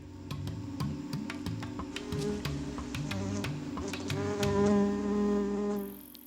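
A digger wasp buzzes close by in a continuous, loud drone that shifts slightly in pitch, with faint ticking clicks behind it.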